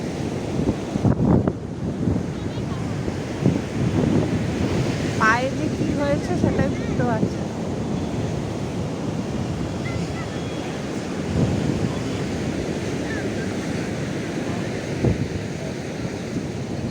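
Ocean waves break steadily on Puri beach in Odisha, a continuous loud wash of surf mixed with wind buffeting the microphone, while people's voices drift faintly in the distance.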